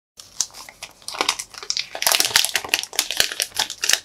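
Plastic film and packaging around a Realme GT Master Explorer Edition phone are peeled and crumpled close up, a busy run of crisp crinkles and tearing rustles building in intensity.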